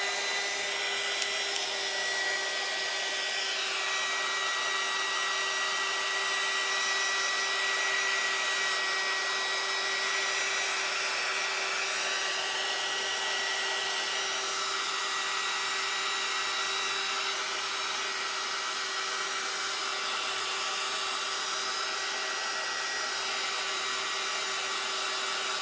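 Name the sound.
hair dryer drying a wet faux cherry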